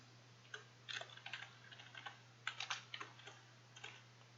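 Faint clicking of a computer keyboard being typed on in short irregular bursts, over a steady low hum.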